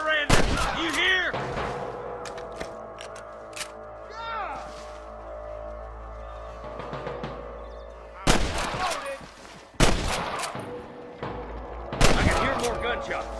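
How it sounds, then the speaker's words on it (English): Gunfire in the Western video game Red Dead Redemption, with bursts of sharp shots separated by quieter stretches of game ambience and music. A few shots come early, then louder volleys land near the end. "More gunshots."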